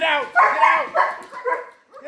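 Dogs bark and yip excitedly in short bursts, wanting to be let back indoors, with someone talking over them close by.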